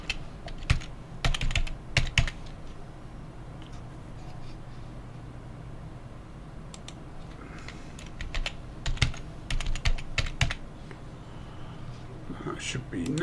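Typing a password on a computer keyboard: bursts of quick, close key clicks separated by quiet pauses, with a person talking softly in between.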